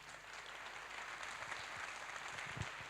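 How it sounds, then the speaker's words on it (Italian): Steady applause from a crowd at a choir's fiftieth-anniversary concert, a continuous wash of clapping that holds at an even level throughout. "facciamogli un altro applauso a Ito."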